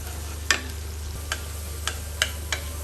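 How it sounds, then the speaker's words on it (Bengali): Onions being stirred and softened in oil in a pan for a jackfruit-seed and dried loitta fish curry, a low steady sizzle with a few sharp spatula scrapes and clicks, close and without talk. "এখন আমি নাড়াচাড়া দিব একটু নরম করে নিব পেঁয়াজটাকে"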